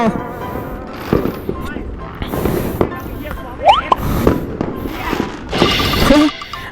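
New Year fireworks explode in scattered bangs and crackles, with a few whistling rockets, heard at moderate distance while people talk excitedly nearby.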